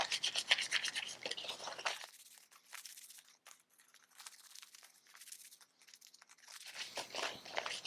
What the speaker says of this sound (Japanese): このように紙をこすり合わせて